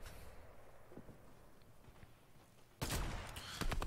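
A short burst of gunfire in a Fortnite FNCS final match, sharp and loud, breaking in near the end over a low, faint rumble of game ambience, with a second crack just after.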